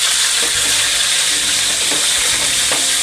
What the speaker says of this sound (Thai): เมื่อกระเทียมมีกลิ่นหอมแล้วนะครับเราก็ นำกระลำปีลงไปผัดนะครับ